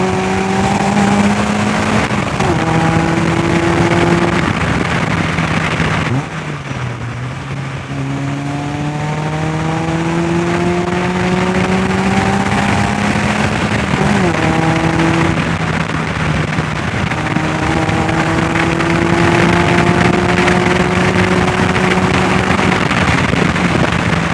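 A naturally aspirated Mazda MX-5 engine in an MK RX-5 sportscar is driven hard, revving up through repeated rising gear pulls with brief dips at the shifts, loud and continuous with road and wind noise throughout.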